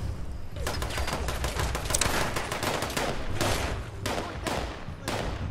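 Rapid gunfire in the Fallout 76 video game, a close, loud stream of shots in dense bursts separated by short pauses.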